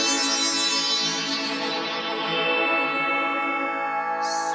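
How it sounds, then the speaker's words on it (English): A sustained FM synth pad with a flanger on the high end, a rich harmonic chord holding steady with slow sweeping movement in the upper tones, alone and even in level. "maybe we'll add a flanger to the high end as well, just to get a little bit of top end movement"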